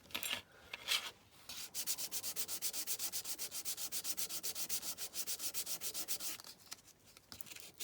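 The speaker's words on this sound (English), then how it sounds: "The easiest way is a bit of 400 grit just over the top of them." 400 grit sandpaper is rubbed briskly back and forth over a die-cast metal Dinky Toys Riley model car, a close, quiet, rhythmic scratching with a few separate strokes before a long even run of rapid passes.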